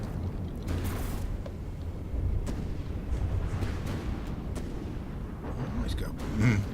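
Cannon volley fire in the naval combat game From the Depths, a run of repeated booming shots and rumbling impacts spread over several seconds, moderately loud with a continuous low roar underneath.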